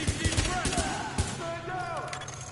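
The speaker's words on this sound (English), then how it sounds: "I'm doing some bad shooting." A sidearm fires in the shooter game Tom Clancy's The Division, a quick run of sharp close shots followed by a single shot, while someone talks over the gunfire.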